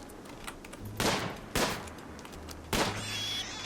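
Three separate gunshot bursts ring out as a colonist fires on a boar in RimWorld, each a sharp crack with a short tail, spaced about a second apart and moderately quiet.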